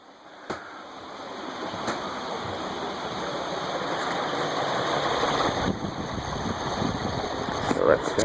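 A circa-1990 Envirofan Silver Line 60F-9 industrial ceiling fan spinning, a steady broadband whooshing rush of air that slowly grows louder, with a few faint clicks and knocks along the way.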